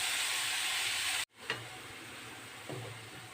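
Greens cooking down in hot oil for a keerai paruppu curry, a steady broad sizzle that cuts out abruptly, then resumes softer with a couple of stirring scrapes.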